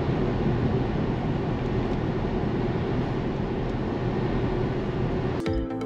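Inside a Tata Harrier diesel SUV cruising in top gear, a steady broadband cabin rumble of road and wind noise holds evenly, with a brief clatter at the very end.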